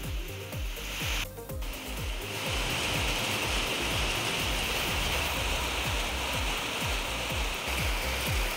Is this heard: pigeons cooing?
no